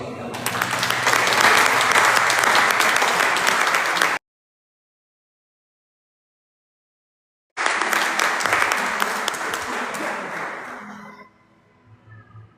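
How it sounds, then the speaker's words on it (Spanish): A church congregation claps loudly and steadily, then the sound cuts out; after a gap the applause returns and gradually fades. "Aplauda a Dios."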